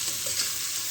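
Shrimp frying lightly in a pan for a vegetable curry, giving a steady soft sizzle with a faint clatter, close and alone, with no voices.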